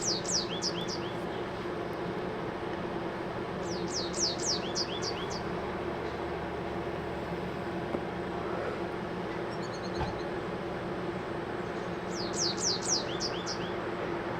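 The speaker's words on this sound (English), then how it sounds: "I know you guys can hear some of the birds." Small birds chirp outdoors in quick, rising bursts of several notes, repeating every few seconds at moderate distance over a steady low background hum, with no talking.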